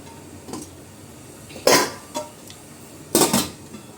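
A metal lid clanks down onto a pot of pumpkin puttu steaming on banana leaves. Two sharp, close clatters ring out, with a few lighter taps of utensils in a quiet kitchen.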